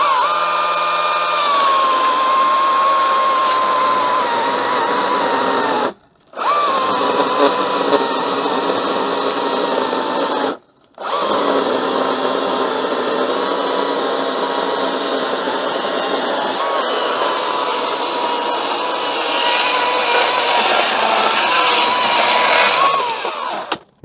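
An EGO CS2000E cordless chainsaw cuts through cherry wood at full speed with a loud, sustained high whine, briefly stopping twice and then restarting, as the cut pitch shifts slightly under load.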